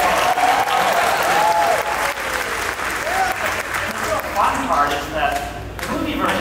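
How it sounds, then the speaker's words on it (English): Audience clapping at a Star Wars Galaxy's Edge panel, loud, sustained applause from a crowd with excited cheering and voices rising over it. "I'm so excited I clap."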